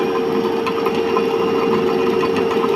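A separately excited DC shunt motor runs at around 1500 rpm, giving a steady close hum with a sharp tonal whine and a faint rattling vibration throughout.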